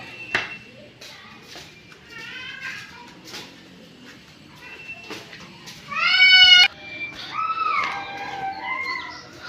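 A playful pet cat meows in a few separate calls, some short and one longer and louder near the end, heard close against faint household background noise.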